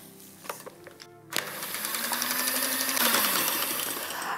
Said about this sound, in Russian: И взбиваю до легкой-легкой пены.